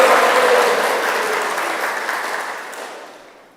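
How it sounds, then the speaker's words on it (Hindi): A crowd gathered for a devotional bhajan and kirtan gathering applauds warmly, a dense, steady clapping close by that gradually fades away over a few seconds. "उषा माता का स्वागत कर दो सब तालियां बजाकर।"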